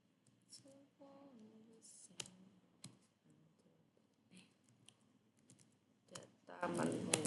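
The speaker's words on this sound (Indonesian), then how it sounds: "kita ngetik manual ya." Keys tap on a computer keyboard while typing manually to build a Laravel sidebar menu, sparse sharp clicks in uneven bursts, close and fairly quiet, with soft speech in between and a busier stretch of clatter at the end.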